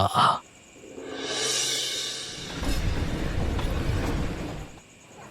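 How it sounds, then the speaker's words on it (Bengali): An animated train pulls into a village station at dusk: a short hiss opens into a swelling, broad rumbling roar that grows denser and rattling as it arrives, then fades out. No voices. "বিনীত যখন স্টেশনের ট্রেন থেকে নামলো তখন অন্ধকার হয়ে এসেছে অনেকটাই"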